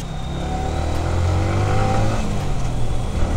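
A modified Yamaha R15 V3 motorcycle engine revs steadily while riding, a loud continuous drone with rising pitch, close and alone.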